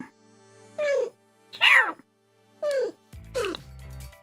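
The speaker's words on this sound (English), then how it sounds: "the cat has woken" A just-woken house cat lets out several drawn-out meows close by, spaced with short pauses, the last one tangled with a low rustle or thump.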